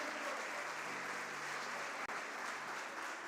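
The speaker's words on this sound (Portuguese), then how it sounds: "dê a melhor salva de palmas que você puder para o Senhor" A church congregation applauds together in a steady, dense wash of clapping that fills the whole stretch with only a momentary dip, no voices standing out above it.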